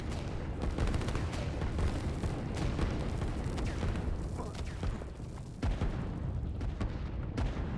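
Dense artillery fire booms and crackles without pause in a real-time strategy battle, a steady barrage of overlapping blasts at close range.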